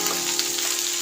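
Garlic cloves and chopped ginger pieces fry in hot oil in a pan, giving a steady, close hiss and crackle with fine popping throughout the short stretch and no talking.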